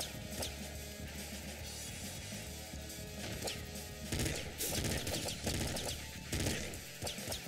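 Rapid automatic gunfire from an assault rifle and submachine gun in the Nuclear Throne video game, dense bursts of shots crackling almost without pause, with heavier volleys toward the middle.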